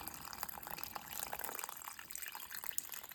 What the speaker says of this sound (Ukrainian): Заливаємо водичкою.